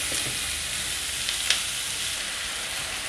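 Onions sizzling in a pan for a bitter gourd dish, a steady even hiss throughout with one small clink near the middle, close and constant, no voices.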